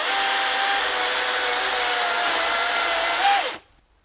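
A DeWalt DCM575N 54/60V cordless chainsaw runs with a steady electric whine for over three seconds, rises briefly, then winds down abruptly into near silence.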